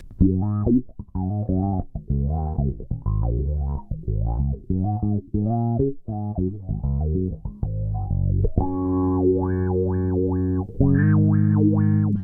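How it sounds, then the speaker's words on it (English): Bass guitar played through a Crybaby bass wah pedal, a continuous funky line of notes with the wah sweeping the tone up and down in vowel-like swells, loud and alone, ending in faster rapid sweeps over held notes. "we're going to my Crybaby bass wah."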